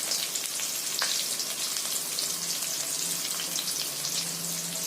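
Garlic and finely chopped onion fry in a pan with a steady, close hiss of sizzling oil that holds even throughout, with no one talking.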